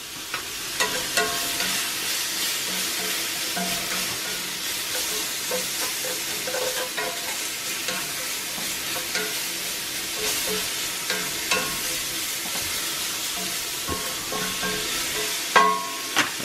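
A steak fries in a cast iron pan with a loud, dense, unbroken sizzle and crackle that lasts throughout, with faint scrapes and clicks of handling and no speech.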